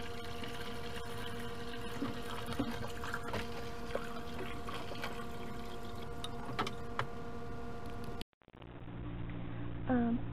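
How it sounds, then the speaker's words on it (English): A siphon draws water from the bottom of an aquarium tank, giving a steady close gurgling flow with light trickles. The flow cuts out abruptly near the end, and a quieter room sound follows. "use the siphon to clean up the bottom of the tank"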